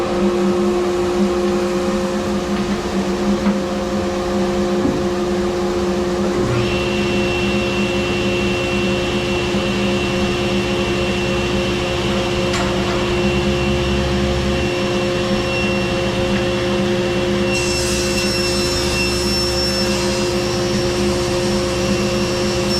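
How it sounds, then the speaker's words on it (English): A workshop dust collector runs as a steady, loud mechanical roar with a constant whine, switched on by remote beside a table saw; the drone persists throughout with no talk. "We've got a pretty cool remote control for the dust collector."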